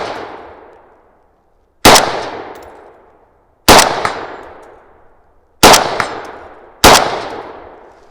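Four loud, sharp shots from a Riley Defense RAK74, a US-made AK74 rifle, fired outdoors at a spaced, uneven pace, each crack followed by a long ringing echo that fades before the next.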